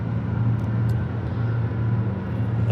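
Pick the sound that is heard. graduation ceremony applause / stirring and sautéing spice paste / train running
train running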